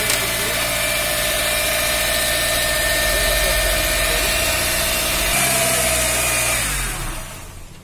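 A Toyota 4E car engine with a fuel supply fault runs close by, humming steadily, then shifts pitch and dies away near the end.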